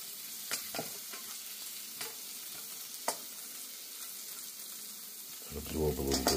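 A slice of egg-and-whiskey-soaked French toast sizzling in a pan, a steady quiet frying hiss with a few sharp ticks, swelling louder and busier near the end.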